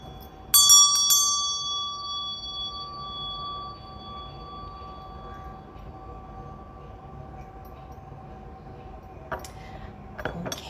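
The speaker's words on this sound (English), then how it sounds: "I'm going to ring my meditation bell" A meditation bell is struck twice in quick succession, its bright ringing tone sustaining and slowly fading over several seconds, with a soft faint strike or clink near the end.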